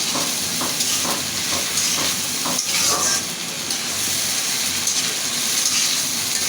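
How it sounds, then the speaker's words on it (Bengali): Onion and taro stolons sautéing together in a pan, a loud continuous hissing sizzle with a few stirring scrapes near the start, no talking. "এভাবে আমি ভালো করে কষিয়ে নেব"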